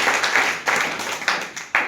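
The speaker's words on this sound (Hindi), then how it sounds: "ताली बजा।" A classroom of students claps together on a teacher's cue, several quick bursts of hand claps, close and fairly loud.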